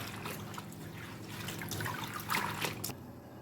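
Ugu leaves are washed one by one in a bowl of water, with soft trickling, dripping and gentle splashing heard up close at low volume and no voices.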